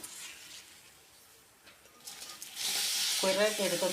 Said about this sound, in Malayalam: ഇനി ഇത് ചീനിച്ചട്ടിയിലിട്ടൊന്ന് പൊരിച്ചെടുക്കാം. അരി ഒന്ന് പൊരിച്ചെടുക്കാം.